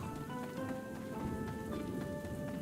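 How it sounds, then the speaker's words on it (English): Steady rain patters on surfaces in the video game Outward 2, a soft, continuous, even hiss of drops with faint droplet ticks throughout. "It's also raining"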